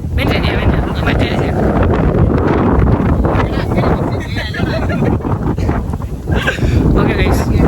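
Strong mountain wind at Rajathottam in the rain buffets the microphone in loud, continuous gusty roars that rise and fall unevenly, with a voice faintly present beneath.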